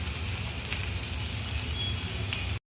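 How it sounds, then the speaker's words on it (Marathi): Onion and green chillies fry in oil with cumin, giving a close, steady crackling sizzle with sharp pops throughout that cuts off abruptly at the end. "कांदा आणि मिरची तेलामध्ये छान आपण असं जरा मऊ पडेपर्यंत परतून घेऊया।"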